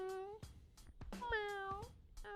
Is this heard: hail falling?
no